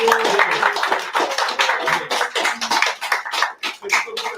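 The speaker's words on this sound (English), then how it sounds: "can we give our MC and also our icebreakers a round of applause?" Audience clapping at a community event in Ōtara, uneven and fairly close, with loud claps mixed with voices and cheering in the room.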